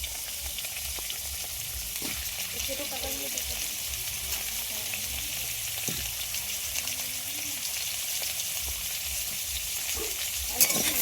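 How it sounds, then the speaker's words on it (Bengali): Papaya and potato pieces fry together in oil in a wok, producing a steady, even hiss of sizzling oil with a few light stirring knocks and a brief louder clatter near the end. "এবার সবগুলোকে একসাথে ভালো করে ভেজে নেব।"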